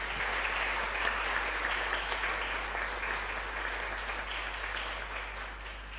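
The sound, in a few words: church congregation applauding Father Víctor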